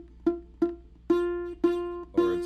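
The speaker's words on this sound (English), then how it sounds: "it's buzzing, that means you're not pressing hard enough" A ukulele string is plucked five times in a slow, even rhythm with the finger not pressed down hard enough, so each bright, close note carries a thin buzzing rattle as it rings out.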